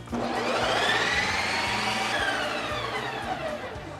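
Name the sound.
Ninja Creami ice cream maker spinning on Lite Ice Cream setting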